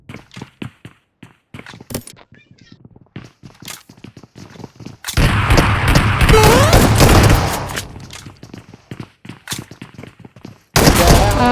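Video game gunfire including a shotgun, with rapid bursts of loud close shots and sustained volleys of automatic fire, punctuated by booms and heavy blasts.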